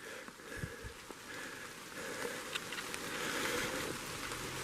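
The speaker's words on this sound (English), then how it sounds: "the canopy's not supporting too much protection from the rain" Steady rain falls through an old forest canopy, a dense hiss of drops on leaves and ground with scattered nearer patters, moderately quiet and continuous with no voices.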